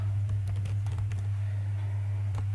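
Scattered keystrokes on a computer keyboard while code is written, a few light, uneven clicks over a constant low electrical hum.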